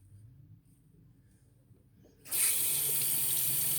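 A tap is suddenly turned on partway through for rinsing a Travalong safety razor, the near quiet room giving way to a steady, loud rush of running water into a sink.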